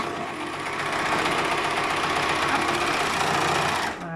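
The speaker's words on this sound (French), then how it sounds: "je vais le faire à la surjeteuse" A serger overlock machine runs steadily at high speed with a dense, rapid mechanical whir, stitching two layers of fabric edge to edge for a pair of boxer shorts. It is loud and close, with a brief slowdown at the very end.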